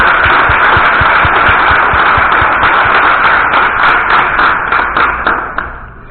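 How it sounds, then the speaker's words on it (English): Audience at a Raleigh startup meetup applauding a guest speaker, dense clapping that starts strong, holds steady for several seconds and then tapers away. "Can we give him a huge round of applause?"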